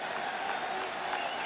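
Yankee Stadium crowd roaring and cheering for the Yankees in Game 6 of the 1977 World Series, a continuous broad roar with occasional louder swells, heard from a distance.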